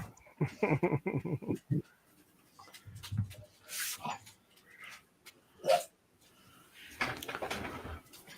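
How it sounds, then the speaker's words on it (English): Dogs bark in two bursts: a quick run of near, loud barks early on, then another cluster toward the end, with quieter whines and household sounds in between. "Now I got dogs."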